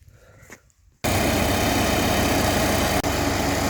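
A farm tractor engine idling in a village field: after a second of quiet ambience it starts abruptly into a loud, steady, close rumble that holds constant, with one brief dip near the end.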